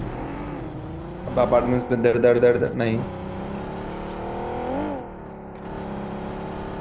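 A vehicle's engine drones while driving in the mobile battle royale game BGMI, a steady mid-level hum with a brief rev, running under people talking throughout.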